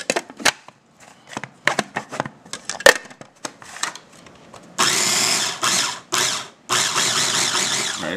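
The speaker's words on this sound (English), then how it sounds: "pulsing up the garlic and these guys, the artichokes" A food processor pulses garlic and artichokes for artichoke hummus: short bursts early, then louder sustained whirring runs in the second half, with brief pauses between.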